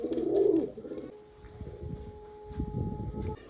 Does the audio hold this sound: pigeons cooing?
yes